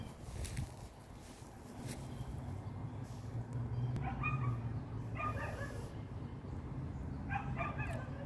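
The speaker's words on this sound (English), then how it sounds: "That's their dog." A neighbours' dog barks outdoors during a nearby party, giving a few faint, distant yips and barks over a steady background hum.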